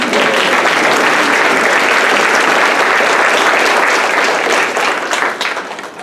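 Audience at the All Black Gala at CSU Monterey Bay in Seaside applauds the host, a dense steady roar of many hands clapping that holds throughout and thins slightly at the end.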